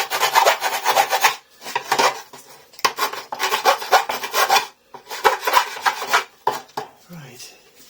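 Rough rasping file strokes scrape back and forth across wood, taking off sharp edges in uneven bursts, with short pauses between runs of filing.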